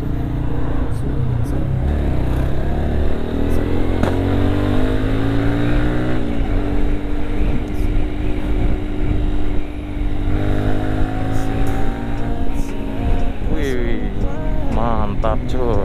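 A freshly serviced motorcycle engine runs steadily while riding, a loud continuous drone with rising and falling pitch as it accelerates, alone for the whole stretch with wind rumble.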